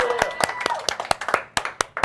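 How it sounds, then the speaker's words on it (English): A small audience claps in sparse, uneven bursts, each clap sharp and distinct rather than a dense roar, with faint talk underneath. "Let's give a round of applause for Liza."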